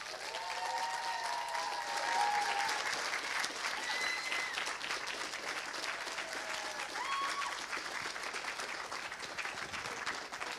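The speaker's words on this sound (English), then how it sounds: "Let's have a big Rotherham cheer for Evie." A live audience at a Rotherham café event cheers and applauds loudly and steadily, a dense wash of clapping with scattered whoops and shouts rising above it throughout.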